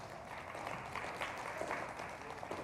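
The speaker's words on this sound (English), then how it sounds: "So please give them a round of applause" A banquet audience at a youth soccer afternoon event applauds in a steady, moderately distant wash of clapping that carries through the whole stretch, with a voice faintly over it.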